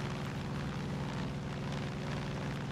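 The Carmina plane in Far Cry 5 drones steadily in flight, a continuous low propeller-engine hum with a faint rhythmic pulse, fairly quiet and alone.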